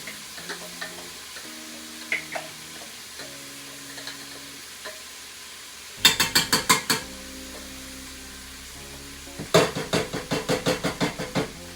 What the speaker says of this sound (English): I'm going to put it into the pot with the onions, okay? And just let that saute for about 5 minutes